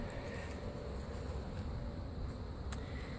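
Steady, close buzzing of a swarm of honeybees during a cut-out from a bird house in Lakeland, Florida, an unbroken droning hum with faint ticks on top and no voices.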